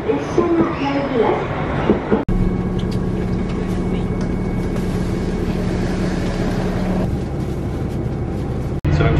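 Steady rumble inside the Hokuto Limited Express train riding toward Sapporo, Japan, with a low continuous drone, a soft electric whine and faint rattling throughout.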